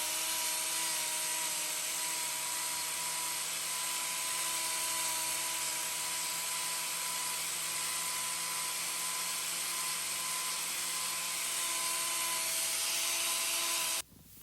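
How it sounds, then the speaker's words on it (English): A handheld grinder cuts away hoof wall horn on a badly blown-out sidewall, producing a steady high-pitched whine that holds evenly for about fourteen seconds close up, then stops abruptly. "I'm going to take this grinder where I don't normally take it"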